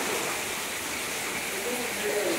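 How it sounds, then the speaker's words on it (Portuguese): Floodwater from a sudden downpour pouring into a house kitchen, a steady broadband rush of running water filling the space at close range, continuous and fairly loud with no talk over it. "a água tá entrando"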